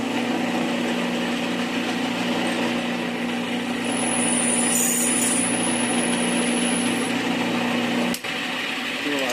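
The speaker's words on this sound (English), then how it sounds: "I'm going to set the depth of my drill press" A drill press's steady motor hum drones throughout with a constant mechanical whir, close by, briefly rising in pitch midway before a faint click near the end.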